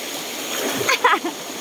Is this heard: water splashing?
yes